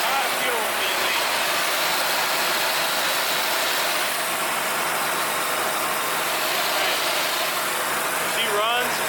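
An old truck leaking fuel idles steadily nearby, its engine a continuous loud rumble and rattle that holds without a break.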